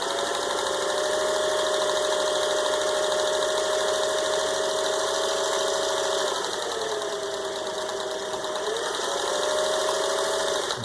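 A serviced vintage 1957 Singer 401A cam embroidery sewing machine stitching continuously, a steady fast mechanical whir and needle chatter with a motor tone that dips and rises as speed changes, close and loud, with no voices.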